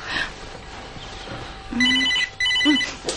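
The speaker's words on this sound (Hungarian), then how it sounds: "Várj, telefon." A telephone rings indoors in two clear electronic bursts of trilling tone, loud and close, after a stretch of quiet room noise.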